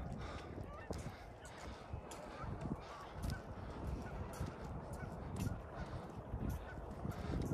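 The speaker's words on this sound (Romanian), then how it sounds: "Asta e gâscă." Geese honking in a park, with scattered nearby honks mixed into outdoor noise while a person talks.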